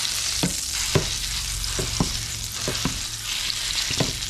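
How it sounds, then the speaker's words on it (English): Jimmy Dean maple breakfast sausage browns in a pan with a steady, close sizzle, broken by several sharp utensil scrapes and taps as it is stirred. "So now I'm going to get this browned up and get it set to the side."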